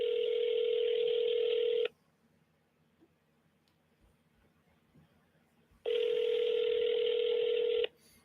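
A phone call rings out over a speakerphone: two long, loud, buzzy ringback tones with a quiet pause of several seconds between them.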